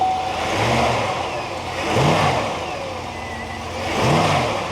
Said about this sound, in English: Put it in gear and then rev it up a little bit.